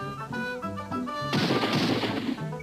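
Cartoon gunshots in a Cartoon Network promo, an abrupt loud blast cutting in after a short musical phrase, followed by a noisy burst that decays over about a second.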